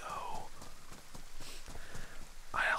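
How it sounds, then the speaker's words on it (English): Steady rain falls in the survival video game DayZ, a soft continuous hiss of drops with muted patter, while a voice speaks quietly over it. "I also absolutely love the rain in this game, bro. It's so, so relaxing."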